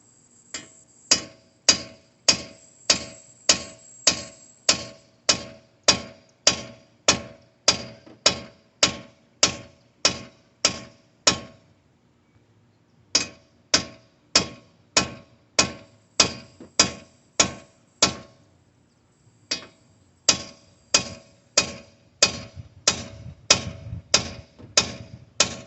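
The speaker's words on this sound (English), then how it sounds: "take your hammer and you're just going to beat it down until it pops out" Sharp metallic hammer strikes on an inner tie rod of a Ford Taurus ring out in steady, rapid series, repeated dozens of times with two brief pauses between bursts.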